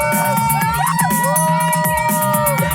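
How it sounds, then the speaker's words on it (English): Crowd at a dance party behind a beach, a steady roar of voices and cheers close by, with pulsing music underneath throughout. "Crowds arrive en masse, including thousands attending a dance party behind the beach."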